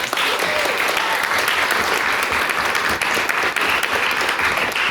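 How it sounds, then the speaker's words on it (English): A debate-society audience gives a dense, continuous round of applause for the speakers, loud and close throughout. "Particularly the two maiden speakers, Victor and Derry, who I think deserve another round of applause."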